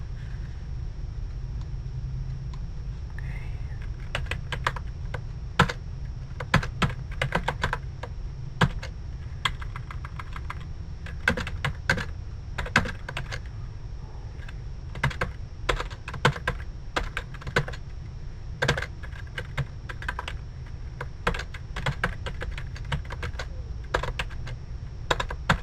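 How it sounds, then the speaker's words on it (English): A computer keyboard is typed on in irregular bursts of sharp, close clicks over a steady low hum. Short runs of keystrokes alternate with pauses across the whole stretch, and no one talks. "Now then, I'm going to type some more stuff."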